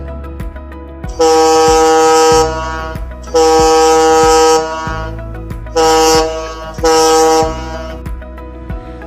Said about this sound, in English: Sound horn for overtaking in port side.